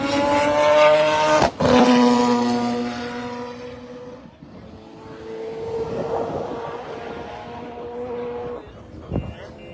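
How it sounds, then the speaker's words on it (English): Race car roaring past on a circuit during an auto race, a loud engine note rising and falling with the Doppler shift, then a second quieter pass as commentary carries on over it. "So here comes your race leader once more, Mr. Christian Jeffrey."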